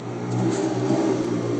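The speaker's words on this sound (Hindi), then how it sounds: "प्रशांत अपनी गाड़ी रोकता है" A car on a deserted road, its engine running steadily at a mid pitch. The loud, close hum holds fairly even throughout, as if the car is slowing or idling, with no voices.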